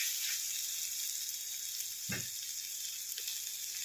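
Salt and garlic sizzle quietly in oil for a lemon pickle, a soft, steady crackle broken by one brief clatter of a utensil near the middle, with no voices.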